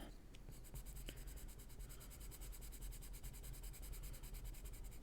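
A Marco Chroma colored pencil scratching on paper while coloring, a soft, quiet, continuous rubbing with rapid stroke texture, heard alone without talking.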